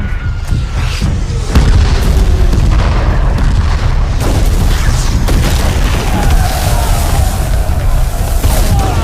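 Heavy booms of mobile cannons firing in a war film battle go off repeatedly, loud and close, some sharp blasts and others rumbling, over a continuous roar of battle noise.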